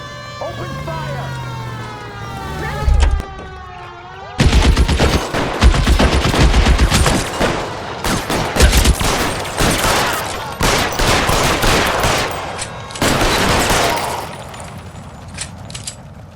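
Gunfire from a shootout in the L.A. Noire video game, dense bursts of rapid shots and machine-gun fire arriving in several loud clusters, with a siren wailing at the start and a voice calling out.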